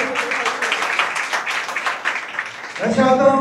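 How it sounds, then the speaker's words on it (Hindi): A church congregation breaks into loud, sustained applause, a dense wash of clapping that carries on for several seconds before easing as a voice and music-like tones take over at the end. "तमाम उन चर्चिस के लिए तमाम खादमों के लिए हम जोरदार तालियां बजाएंगे"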